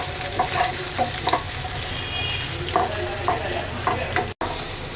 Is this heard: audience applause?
no